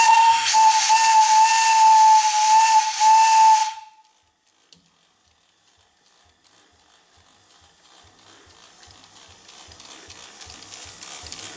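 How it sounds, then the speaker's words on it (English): A 1/3-scale Case steam engine sounds its steam whistle in a loud, steady, hissing blast for about four seconds, then falls quiet before soft rhythmic chuffing and mechanical ticking slowly build. "And the whistle does work too."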